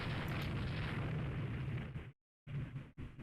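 Torpedo explosions in the naval strategy game Rule the Waves 3, heard as a sustained heavy rumbling blast that cuts off abruptly into silence, then resumes in shorter bursts.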